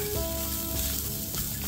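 Onions sizzle steadily in a hot pan while an Amritsari wadi rice dish is being cooked, giving a close, even, crackling hiss with no break.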